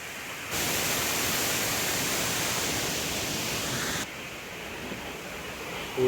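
A waterfall near the Bhimalingeshwara temple in Karnataka rushes in a dense, unbroken roar that drops to a softer level partway through, heard alone without talk.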